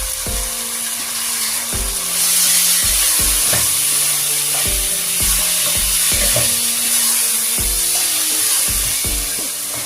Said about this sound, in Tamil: பிரியாணி மசாலா போடுறேன். நல்லா இதை மிக்ஸ் பண்ணி கொடுப்பேன்.